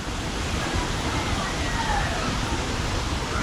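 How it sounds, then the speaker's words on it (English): Steady rush of splashing water from a water park fountain feature at KLCC Park in Kuala Lumpur, a continuous broad hiss with faint sounds of kids playing and someone talking over it. "there's this little water park feature here with kids playing."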